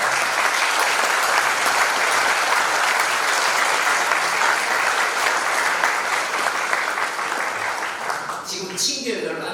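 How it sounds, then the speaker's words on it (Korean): A church congregation at an evening worship service for pastors claps loudly and continuously in a dense wash of applause that thins out and fades near the end. "큰 박수로"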